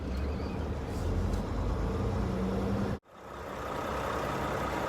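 A large truck rumbles steadily close by with a broadband engine drone, which cuts out abruptly for a moment near the three-second mark and then returns at the same steady level.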